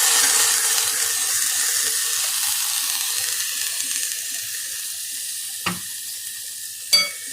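Vegetable soup in a hot saucepan, a steady hiss and bubbling simmer that slowly fades, with two brief knocks of a spoon near the end and no voices.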